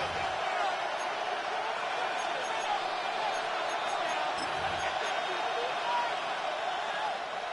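Football stadium crowd roaring steadily and loudly throughout, a dense wash of cheering on a third-and-long play with no break in the noise.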